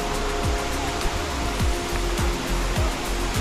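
Durian Perangin waterfall in Langkawi pours in a steady, dense roar of falling water, close and continuous, with faint periodic swooshes riding over the broadband rush.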